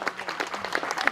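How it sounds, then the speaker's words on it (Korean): Applause at the 10th Eosa Park Mun-su national poetry contest at Chiljangsa temple: a brief burst of many hands clapping, dense and fairly close, with no voices over it. "큰 박수 한번 부탁드릴게요."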